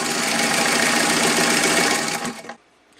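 A vintage straight stitch sewing machine set up to sew a zigzag stitch runs in a steady, fast mechanical whir that fills the first two and a half seconds, then winds down and stops, leaving near silence.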